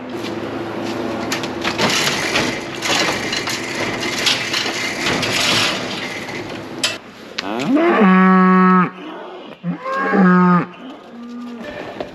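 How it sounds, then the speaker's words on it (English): Dairy cows in a barn, about to be dried off, moo loudly and close by in two long bellowing calls after a stretch of clattering, crunching barn noise. "right there is all the cows that we're gonna dry off this morning"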